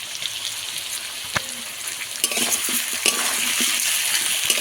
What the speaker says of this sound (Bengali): আদা রসুন বাটা দিয়েও কিছুক্ষণ কষাবো